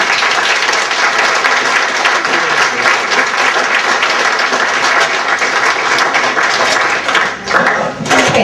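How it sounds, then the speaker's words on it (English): An audience gives a sustained round of applause for veterans at an Adopt A Soldier coining ceremony in Peotone, dense loud clapping that holds steady for several seconds before thinning briefly near the end. "let's give these men a round of applause."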